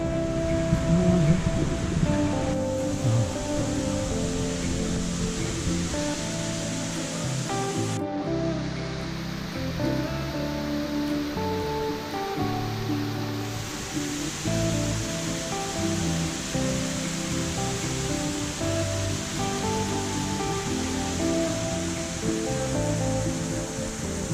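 Water rushing over Karamchat Dam and its waterfall in Kaimur, Bihar, a constant broad roar of flowing river water that fills the whole stretch without a break, with no voices.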